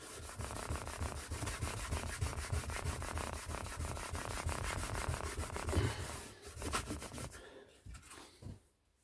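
A Scotch pad scrubs Scalextric slot car track, cleaning off dust and corrosion, in a close, steady back-and-forth rubbing that runs nearly continuously before easing off with a few final strokes.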